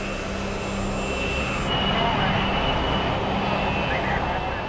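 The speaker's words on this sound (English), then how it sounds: "We can accelerate up to virtually to takeoff speed" Airliner with jet engines accelerating down a runway, a loud continuous roar with a steady whine that shifts partway through, with a voice talking over it.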